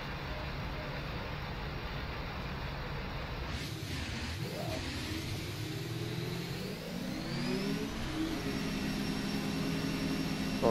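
A race car engine in the video game rFactor 2 drones steadily, rising and falling in pitch as it revs, with a whooshing pass partway through.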